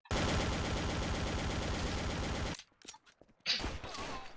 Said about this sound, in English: I unloaded entire mag into his back and he didn't uh, die.